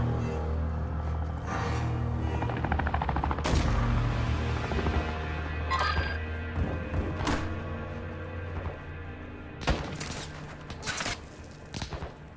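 Bursts of machine gun fire rattle through a Call of Duty Modern Warfare 2 firefight, loud and repeated over a steady low rumble, with several sharper volleys and heavy thumps scattered across the stretch.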